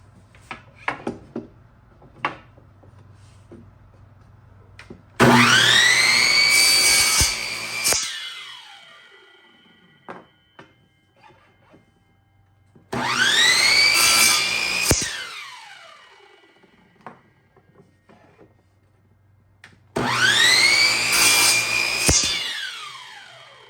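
A saw cuts through wooden dowels in three separate bursts of about three seconds each. Every burst is loud, rasping and close, with quieter gaps and small knocks between the cuts.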